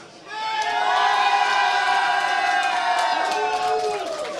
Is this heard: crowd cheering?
yes